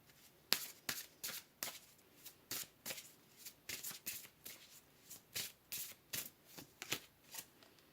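Tarot cards being shuffled by hand up close, a rhythmic run of about a dozen quick riffling bursts with short pauses between them.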